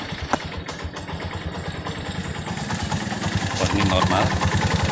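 A Honda Mega Pro motorcycle engine with an ignition fault starts and settles into a steady, close idle, its low rhythmic putter growing slightly louder, while someone talks over it.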